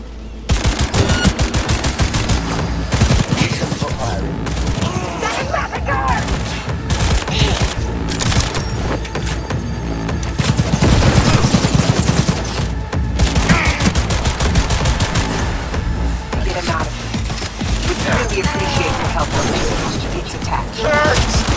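Repeated gunfire from an iconic weapon in Cyberpunk 2077, long loud bursts of rapid shots and impacts filling the scene continuously, with game effects and a narrator speaking over parts of it.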